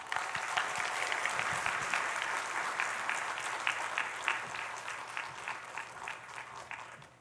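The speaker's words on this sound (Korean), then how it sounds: "나오실 때 우리 박수로 환영하겠습니다." A church congregation applauds to welcome a pastor, with steady dense clapping from many hands that continues throughout and eases slightly toward the end, heard from a moderate distance.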